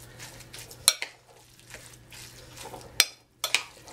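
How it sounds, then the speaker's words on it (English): Green beans mixed with a walnut and spice mixture for Georgian pkhali, soft stirring and squelching in a bowl with a few sharp clinks of a utensil against the dish. "I have to mix it with a walnut and spice mixture"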